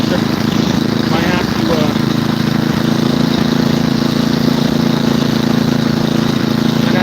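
A snow blower engine runs steadily and loud throughout while clearing a snow-laden driveway during a February 2026 blizzard, a constant droning hum with no break.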